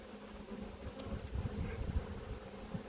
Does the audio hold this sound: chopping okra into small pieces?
no